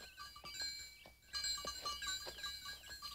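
Several goats bleat at close range, overlapping calls in short bursts over quiet outdoor background.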